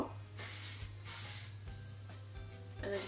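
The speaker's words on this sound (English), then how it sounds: "Finish off, I'm going to use the Shine Head Shine Spray." An aerosol can of Shine Head shine spray is sprayed over styled, voluminous hair in three or four close, loud hissing bursts with short pauses, a low steady hum running underneath.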